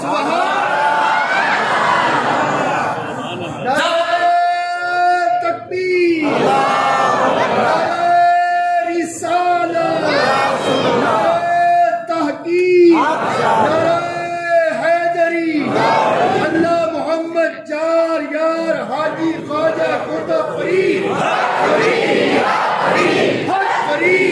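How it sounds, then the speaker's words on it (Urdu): A large crowd at an Islamic religious gathering chants the slogan "Haq Farid, ya Farid" in loud, rhythmic, repeated shouts, with brief pauses between rounds and a constant murmur underneath. "اس نعرے کا ریدم میں بتاتا ہوں کہ یہ کم از کم 5 مرتبہ حق فرید یا فرید کہیں گے"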